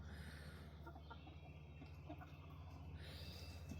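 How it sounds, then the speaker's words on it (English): Chickens clucking softly around their roost, scattered faint clucks over a steady low background hum. "happy little chickens."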